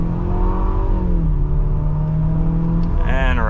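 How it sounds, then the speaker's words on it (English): A 2025 Infiniti QX60 with a four-cylinder turbo engine pulls away from a standstill, its steady engine drone rising in pitch as it gathers speed, heard from inside the cabin with a brief higher whine near the end. "All right, so setting off now in the QX60."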